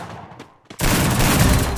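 Gunfire in the Free Fire battle game: a sudden loud, dense burst of rapid shots starts partway through and continues steadily to the end, following a quieter stretch of background noise.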